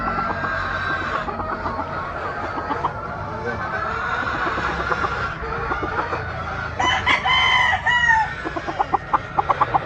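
A straight-breed rooster chosen as a broodcock crows loudly and close by, with clucking from other fowl around it and someone talking in Filipino over the farm sounds.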